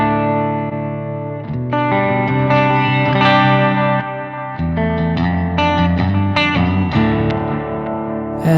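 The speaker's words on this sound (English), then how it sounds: "So I prefer the tape echo." Distorted guitar chords and single notes ring through the tape echo effect of a Zoom G3Xn multi-effects processor, loud, with repeats trailing and smearing each strum over about eight seconds.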